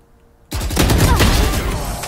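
Gunfire in the tactical shooter Valorant starts abruptly after a quiet moment and becomes a loud, dense, continuous volley of shots.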